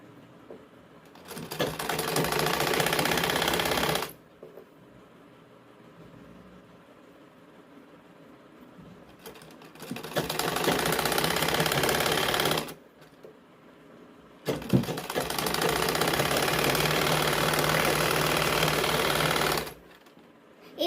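Sewing machine stitching the collar of a blouse, running in three steady bursts of a few seconds each, close and loud, with quiet pauses in between.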